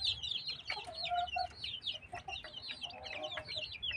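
Backyard chickens on a poultry keeper's property clucking continuously, several hens overlapping in busy, close chatter with occasional louder calls, no speech.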